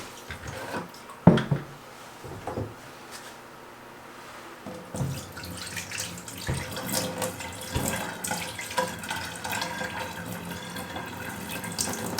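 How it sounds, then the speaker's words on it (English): Water runs from a sink tap while aquarium gear, including sand, is rinsed for a five-gallon bucket aquarium. A gushing stream starts and stops with splashes and drips, close by and with no talking. "While we're at the sink, we'll just go ahead and rinse everything that's going inside the aquarium."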